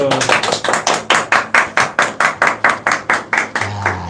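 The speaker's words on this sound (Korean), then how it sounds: "박수." A roomful of people clapping in unison at a talk-show style business lecture event, about a dozen loud, evenly spaced beats over four seconds.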